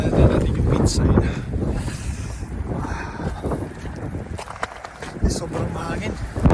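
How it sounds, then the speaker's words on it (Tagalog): Strong, gusty wind buffets the microphone outdoors on a cold Canadian evening, roaring in uneven surges while a person speaks over it. "Sobrang mahangin."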